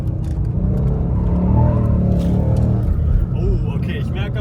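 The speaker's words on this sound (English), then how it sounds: "I have to say, this car feels very nice to drive" A Ford Mustang drives with a loud, low engine rumble and road roar from inside the cabin, while people talk over it.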